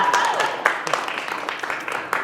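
Audience applause at a gathering held at a Neiman Marcus store, a steady patter of many hands clapping at close range with voices mixed in.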